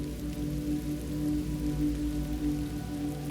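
Steady rain falls in a continuous, even patter, moderately close, with a low background hum beneath it and a brief louder burst at the very end.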